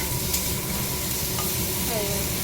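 Spices fry and sizzle steadily in a pan for a cucumber curry, with a spoon stirring through the hiss, close and loud throughout with no talking.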